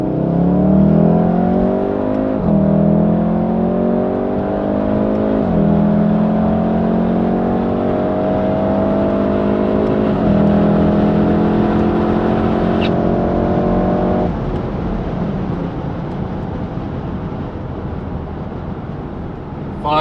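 Volkswagen Golf R engine driven hard in race mode, a loud continuous drone that rises in pitch through repeated gear pulls, each climb cut by a shift, before settling steadier toward the end.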